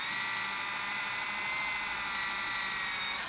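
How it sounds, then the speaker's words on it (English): A small drill bores into a Mini4WD rear stay, a steady high-pitched whine held without a break for the whole stretch, close and alone. "Okay, we drill."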